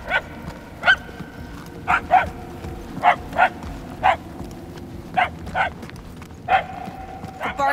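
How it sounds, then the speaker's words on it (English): A dog barks in the Guardians of the Galaxy video game, about a dozen sharp, evenly spaced barks at moderate distance over a low ambient hum, with no talk. "The barks are getting louder at least."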